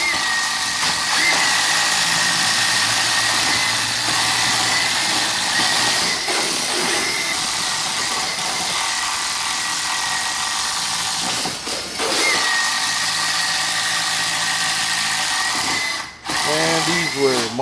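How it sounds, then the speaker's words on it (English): A power drill bores holes through wooden wall studs with a loud, continuous, grinding whine that runs almost unbroken through the whole stretch, dipping briefly only near the end, with talk faintly underneath. "What we're going to do is drill a few holes through the studs"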